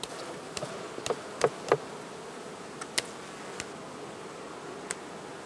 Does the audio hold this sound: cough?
no